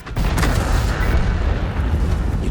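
A heavy tank cannon fires in World of Tanks with the T110E4, a loud deep boom that swells at once and rolls on as a dense, sustained rumble of battle noise for a couple of seconds.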